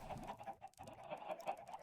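Chickens on a Minecraft egg farm cluck repeatedly in a busy, overlapping stream of short calls, fairly close and steady, with a brief lull partway through.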